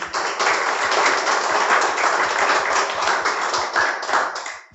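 A church congregation claps together in a steady, dense burst of applause lasting several seconds before it stops abruptly.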